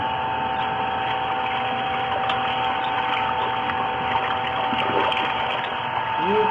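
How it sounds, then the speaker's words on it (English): Water pours steadily from the outlet of a 1000-litre reverse osmosis purifier system into a sink, a continuous broadband rushing under the hum of a running pump, steady and close throughout. "You see this huge amount of water coming out here."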